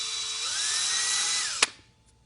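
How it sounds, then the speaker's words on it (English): A small power drill with a 1/16-inch bit boring out holes in white 3D-printed strong flexible plastic parts, a close whine that rises in pitch, then a sharp click as it stops and fades out. "All I do is I just kind of drill those out a little bit."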